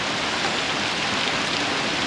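Heavy rain pours steadily through a forest during a night trip to trap civets feeding on fig fruit, a dense continuous hiss close around the listener with no voices.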